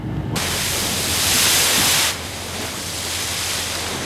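Sea waves and wind at a fishing harbour in rough weather with 4 m waves, heard as a steady loud wash of noise that swells briefly and then settles.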